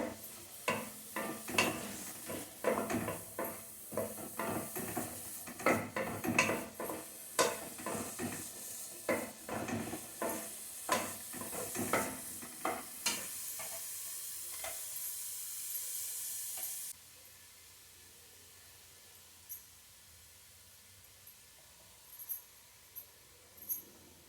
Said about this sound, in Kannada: ಈಗ ಇದೇ ಪ್ಯಾನಲ್ಲಿ ಆನಿಯನ್ನನ್ನು ಫ್ರೈ ಮಾಡ್ಕೋಬೇಕು